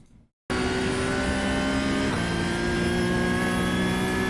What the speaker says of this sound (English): it's basically just full throttle from here on out